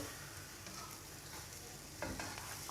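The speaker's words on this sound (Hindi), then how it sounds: "ये जो चाश है अपनी, ये माशाल्लाह से इसमें मैं मिक्स कर लूँगा।" A spoon stirs jaggery syrup through rice in a cooking pot, giving a low continuous sizzle with soft scraping strokes and a slightly louder stir near the end.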